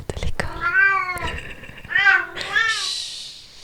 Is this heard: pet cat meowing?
yes